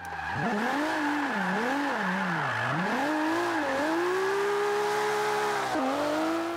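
Nissan 240SX (RPS13) in Forza 5 drifting through corners, engine revving up and down in waves as the tires squeal in long sustained bursts, loud and close.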